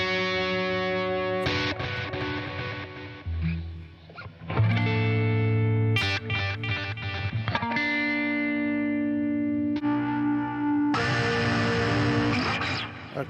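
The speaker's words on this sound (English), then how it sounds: "So that's like a clean chorus sound." An electric guitar played through the Nembrini JMP Pro amp app for iOS on a clean chorus setting, heard as strummed chords and sustained notes with shimmering modulation, changing chords every second or two, loud and close with no talking.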